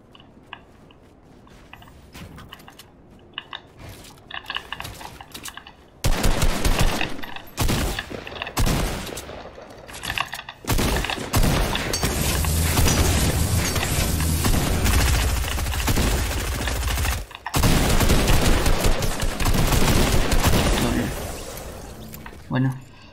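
Shotgun fire in Fortnite during a free cup match, heard as repeated loud blasts and dense gunfire bursts through the second half, with game noise around them and talk over parts of it.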